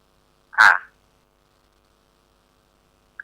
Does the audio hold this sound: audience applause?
no